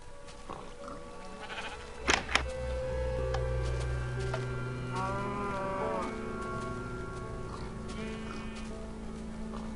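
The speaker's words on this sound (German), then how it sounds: "Im Dienste der Wissenschaft stirbst du jetzt, kleine Kuh." Blocky cows moo in Minecraft, several drawn-out lowing calls with wavering pitch over a steady game background hum, punctuated by two sharp hit sounds near the start.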